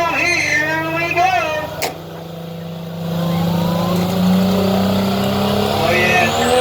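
A 2.5 modified diesel truck pulling a sled at a county fair truck pull, a loud, close engine roar that builds and holds steadily, with an announcer talking over the start.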